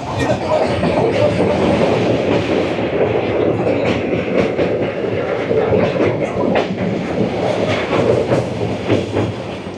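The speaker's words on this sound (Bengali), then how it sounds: "আমাদের ট্রেন হেরিয়া স্টেশন পার করে এসছে।" Kandari Express 22897 running from Howrah to Digha, past Heria station at night: a steady, loud rumble of wheels and carriages with rhythmic clickety-clack throughout.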